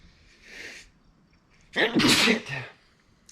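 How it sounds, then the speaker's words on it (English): A soft intake of breath is followed by a single loud, sharp grass-pollen allergy sneeze close by, then a brief exhale. "Gotta sneeze."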